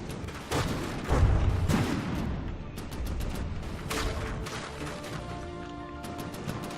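Vehicle cannons in From the Depths fire in repeated loud, sharp blasts, irregular bursts overlapping with booming impacts and crashes, ongoing throughout with no speech.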